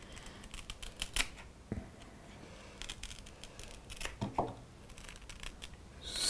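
Scissors snipping through a plant leaf to divide it into three cuttings: a few crisp, separate snips spaced over several seconds, close and fairly quiet, with no talking.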